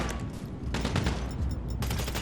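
An AK rifle fires in GTA Online, loud bursts of rapid automatic shots in two clusters separated by a short gap, amid ongoing combat noise.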